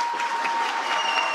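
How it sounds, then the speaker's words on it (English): Steady applause from an arena audience at a wheel gymnastics world championship final, dense and even clapping filling the whole moment without pause. "He's getting an extra applause for being the youngest contestant"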